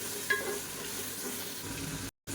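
Tomatoes with added salt sautéing in a pan for mutton biryani, a steady close sizzle with light stirring throughout, broken by a short silent gap near the end.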